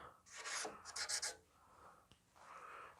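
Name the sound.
tracing holes with a marker on metal plate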